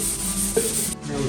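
A surfboard repair gets sanded by hand with 320 grit sandpaper, a close, steady scratchy rubbing that continues through the brief moment.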